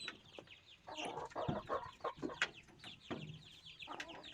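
Chickens in a coop cluck and squawk in short, uneven bursts, faint and fairly close, a restless flock stirring as food is offered.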